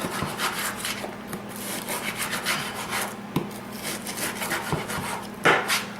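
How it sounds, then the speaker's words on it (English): A knife slices partly frozen chuck steak into strips across the grain, fat left on, giving close rasping strokes in a steady rhythm with no voices. "I'm just going to cut it across the grain like this in strips"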